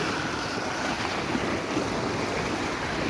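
Ocean waves wash up onto a warm-water beach, a steady broadband roar of surf and foam with wind buffeting the microphone throughout, continuous and close with no voices.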